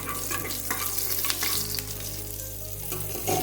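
Green chillies and vegetables fry in a pan over a medium flame, a steady close sizzle and crackle with a few stirring scrapes, continuous and fairly loud throughout.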